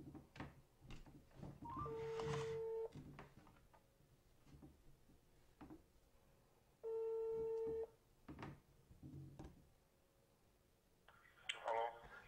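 Phone ringback tones heard over a speakerphone as a call is placed, two long steady rings separated by quieter room noise and faint talk, with some brief beeps near the end.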